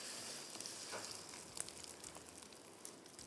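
An egg omelette for fried rice fries over full high heat, giving a soft, steady sizzle with a fine crackle that runs evenly throughout, with no voices.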